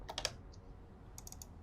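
A computer keyboard is pressed during a Penumbra Overture game session, giving a few quick faint clicks, a cluster at the start and another near the end, with no talking.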